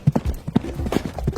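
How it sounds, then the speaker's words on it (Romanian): A horse's hooves clip-clop on the floor inside a dorm room, a run of quick, uneven, close knocks with a faint voice in the background. "A comandat careva un cal."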